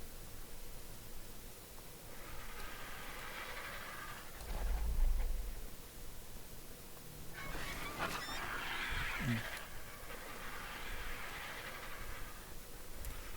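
Honking bird calls from ARK: Survival Ascended come through a steady bed of wind-like noise, with several separate goose-like calls spread across the clip.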